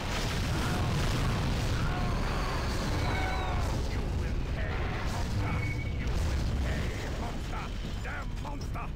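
Crystal cannons fire in the Godzilla Unleashed video game, a dense roar of booming blasts and mechanical clanking that stays loud and continuous, with shouted voices and bright tonal effects layered over the din.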